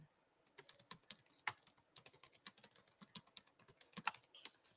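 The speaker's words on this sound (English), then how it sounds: "I'm just typing it in the chat" Rapid, uneven clatter of fingers typing on a computer keyboard, close and fairly quiet, in irregular bursts of keystrokes with no voices.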